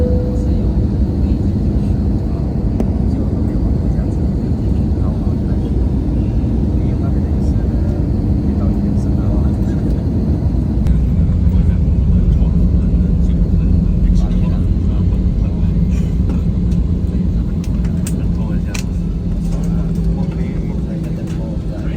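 Cabin of an airliner descending to land at Phnom Penh International Airport in Cambodia: a steady, loud low engine and air roar runs throughout, with voices talking over it.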